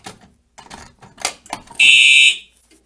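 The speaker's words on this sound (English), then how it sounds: "these horns sound weird because they are different pitches" A loud fire alarm horn on a Simplex 4010 system blares for about half a second, two clashing pitches sounding together, after scattered clicks and handling noises.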